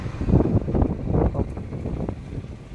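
Wind buffets an outdoor microphone while a Vivo X100 smartphone records on the move, a steady low rumble with gusty swells running throughout, alone with no talk.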